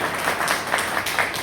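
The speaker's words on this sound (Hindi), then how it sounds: "एक जोरदार तालियां वन मैन आर्मी के लिए होनी चाहिए" Audience clapping at a health awareness program in Chamba, a short burst of steady applause from a gathered crowd.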